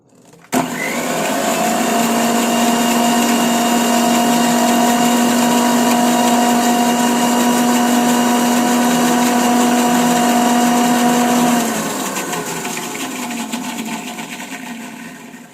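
An electric mixer grinder grinds butterfly pea flowers with coconut milk, starting abruptly into a loud, steady high whine with a strong motor hum that runs for about eleven seconds, then winds down as the motor slows.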